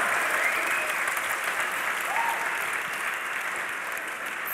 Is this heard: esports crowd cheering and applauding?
yes